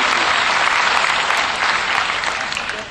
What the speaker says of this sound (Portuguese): a senhora quer aplaudir, aplauda então